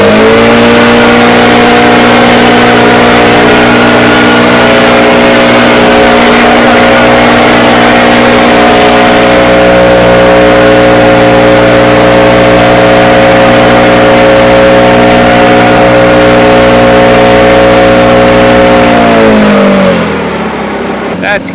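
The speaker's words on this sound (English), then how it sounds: "Let's go over and blow some wood chips here and let's see how it does with that" A Stihl BR 800 backpack leaf blower roars loudly and steadily at full throttle, blowing wood chips with a constant engine drone and rushing air, then winds down near the end.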